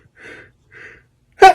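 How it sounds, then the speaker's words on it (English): A single sharp sneeze bursts out near the end, preceded by two soft sniffling in-breaths, close and loud against an otherwise silent room. "I'm going to sneeze."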